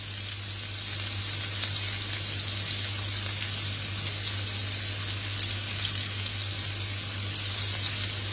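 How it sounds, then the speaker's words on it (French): Onion browning uncovered in a pan over a low flame, giving a steady, soft sizzle and crackle that runs without a break, with a constant low hum beneath. "Je mets la flamme basse pendant que je coupe l'oignon. Je vais le faire dorer un peu sans couvercle"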